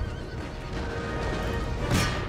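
A horse whinnies amid a steady wash of battle noise and hoofbeats in the video game Empire: Total War, ending with a sharp rising neigh near the close.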